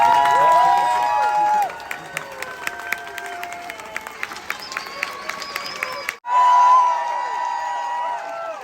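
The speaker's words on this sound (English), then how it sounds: "Ladies and gentlemen, a round of applause." Audience at a Marine Corps parade in San Diego clapping and cheering for Marines who rise, a loud burst of crowd noise that thins into scattered claps before a second swell of applause.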